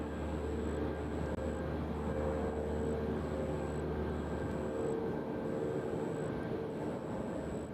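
An airliner's engines hum in a steady, continuous drone during taxi at Nashville International Airport, heard from a distance with no voices, and a faint intermittent high tone pulses over the engine noise.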